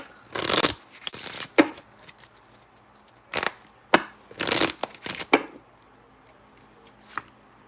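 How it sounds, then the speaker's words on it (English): Playing cards shuffled and pulled from a deck during a tarot-style reading, heard as several short bursts of riffling and snapping, close and fairly loud, separated by quiet gaps. "let's pull a playing card."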